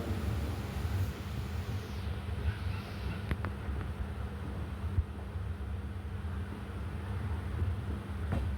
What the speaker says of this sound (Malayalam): ട്രെയിൻ അങ്ങനെ ചെറുതായിട്ടൊന്ന് സ്ലോ ആയി കേട്ടോ